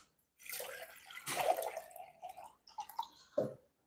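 Distilled water is poured in a laboratory, making a splashing, trickling pour that runs for a few seconds, stops, then resumes briefly with a final splash. It sounds close and moderately loud, with no talk over it.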